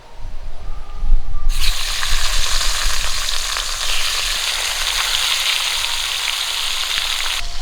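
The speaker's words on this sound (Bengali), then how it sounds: "বাকি মাছগুলো আমি একই রকম করে ভেজে নেবো" Rohu fish pieces drop into hot oil, and a loud, dense sizzle erupts after a quieter start, then holds steady and close for several seconds.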